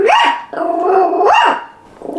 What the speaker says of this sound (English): he's barking at, hey, are you barking at children?